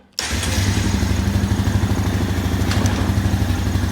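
A 2001 Honda Foreman ES ATV engine catches abruptly after a brief silence and settles into a steady, close, pulsing idle that continues for several seconds with no talk.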